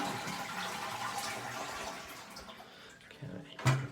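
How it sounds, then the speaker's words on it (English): Water gushes and splashes steadily from a Caroma toilet cistern as it drains, the rush tapering off, then a short louder gurgle near the end. "We want to remove all the water from the tank next."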